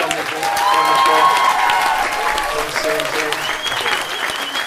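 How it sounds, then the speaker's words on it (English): A big round of applause from an audience at a UK church family gathering, honouring people on stage, steady dense clapping throughout with a few voices and cheers mixed in. "Big round of applause for them."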